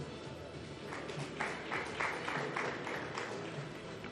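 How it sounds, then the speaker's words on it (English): A light smattering of applause from the crowd around the table at a pool match, a few scattered claps, soft and somewhat distant, over a low hum of the room with no talking. "just a smattering of applause from around the table, but that deserved more."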